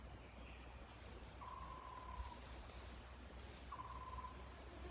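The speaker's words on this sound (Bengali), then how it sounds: "পাখি আর কীটপতঙ্গের ডাক" Night ambience in a monsoon forest sanctuary in the Dooars with a bike switched off: a steady hiss of insects and crickets, with two drawn-out owl-like hoots or bird calls at a moderate distance, no voices.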